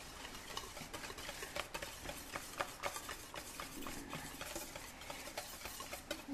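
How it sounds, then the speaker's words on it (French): A creamy mixture stirred in a bowl, a quiet run of rapid, irregular scraping and tapping strokes, close but faint, with no voices. "On mélange."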